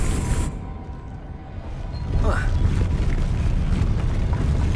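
A Depulso spell blast in Hogwarts Legacy, a low rumbling boom that swells partway through and settles into a sustained heavy roar, with no voices over it.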